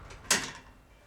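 A door opens or closes once indoors during dog training, giving a single short, sharp knock or click up close that fades quickly, with no talking.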